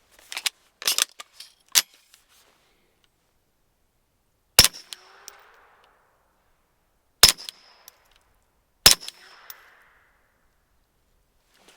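Gunshots from a Flux Defense Raider pistol-carbine at a shooting range: about five sharp, loud cracks spaced a few seconds apart, with a brief burst of shots near the start and short echoes trailing each report.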